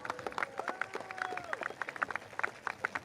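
An audience claps in a steady patter at a PSP election rally held at Catholic High School, with a voice or tone running through the middle of the applause.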